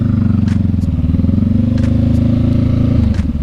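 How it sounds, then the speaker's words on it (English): A Honda motorcycle in second gear with the clutch squeezed under braking on a road, a steady loud engine drone with a few light clicks and scrapes throughout, with nobody speaking. "Second gear, and we're going to squeeze the clutch."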